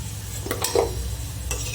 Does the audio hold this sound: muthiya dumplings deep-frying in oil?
yes